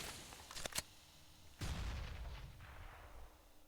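Desert Eagle gunshots in Counter-Strike: Global Offensive during a competitive match on the Cache map, a couple of sharp cracks followed by a heavier booming shot with a rumbling tail, quiet overall.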